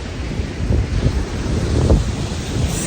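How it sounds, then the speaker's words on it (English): Ocean waves washing onto an empty beach, a loud rolling surf with wind buffeting the microphone, no voices. "We got the waves in the back."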